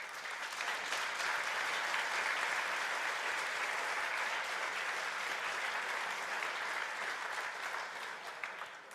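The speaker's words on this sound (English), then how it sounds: "Maybe a short applause for that." Audience at a student business plan competition final applauding after a presentation, a steady, even wash of clapping for several seconds that fades slightly at the end.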